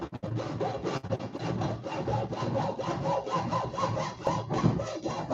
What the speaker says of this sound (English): that was a 1/2 inch that I just cut off of this shaft, just like that